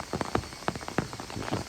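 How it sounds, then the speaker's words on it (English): Rain patters onto the streets of Kyoto in a steady, irregular spatter of nearby drops, moderately loud with no voices. "Because I'm walking around again in the rain."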